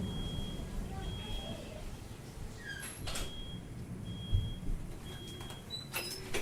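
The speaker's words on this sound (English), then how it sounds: "This little smoke detector thing, it's nothing." A smoke detector chirps in short high repeated beeps at irregular intervals over a steady low room hum, with a few louder clicks and knocks nearby.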